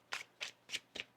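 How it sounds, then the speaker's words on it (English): Tarot cards being shuffled in the hands make four quick, evenly spaced riffling bursts, close and quiet, with no talking. "One more shuffle."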